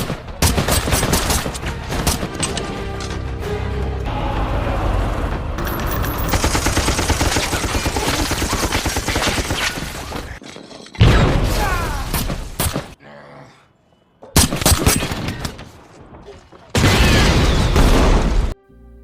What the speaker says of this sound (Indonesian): Tyler masih tak henti-hentinya baku tembak dengan anak buah Amir Asif